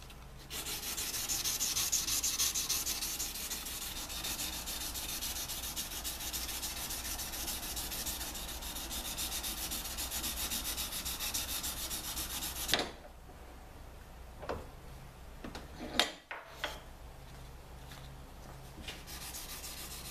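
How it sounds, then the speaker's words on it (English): Knife handle being hand sanded with 320 grit paper on a soft backing, a long steady close scratching rub that stops partway, followed by a few light knocks and handling sounds. "we've been sanding at an angle like this with our 320 grit"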